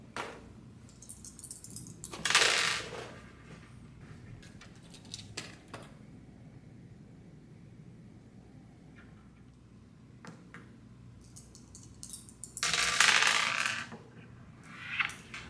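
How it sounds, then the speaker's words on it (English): Dice rattle and tumble across a surface in two short bursts during a dice game, the clatter fairly close. Quiet room tone fills the long stretch between the rolls. "maybe you're going to be the same at the dice game, or maybe Cornella's going to be better."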